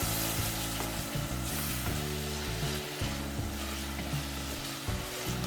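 Spices including cumin sizzle and fry in a pan while being stirred, with a loud, continuous crackle and occasional scraping strokes of the spoon. The cooking is for a hilsa fish and bean seed curry.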